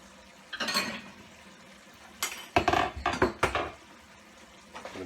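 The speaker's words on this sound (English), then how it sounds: "give it a quick stir" A utensil stirs shrimp curry in a pan with garam masala, close by, giving several short scraping and clinking bursts of metal against the pan with pauses in between.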